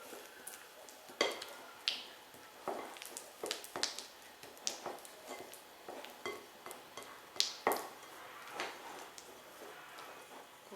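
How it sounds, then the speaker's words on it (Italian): Irregular soft taps and clicks of a utensil working softened butter and sugar together in a bowl for Catanese rame di Napoli biscuits, close by and fairly quiet. "Qua miscoliamo bene lo zucchero con il burro"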